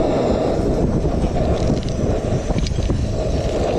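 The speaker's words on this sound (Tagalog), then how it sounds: "Malakas po ang hangin." Strong wind buffeting the microphone in a steady low roar, continuous for the whole stretch with no voices.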